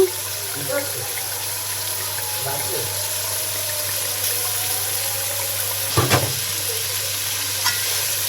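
Ripe tomatoes sauté in a pan with a steady background sizzle, a few faint stirring scrapes, and one louder clatter near the end over a constant hum.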